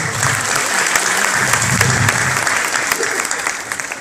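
Studio audience applause on a television show, sustained loud clapping filling the whole stretch, with some voices mixed in beneath it.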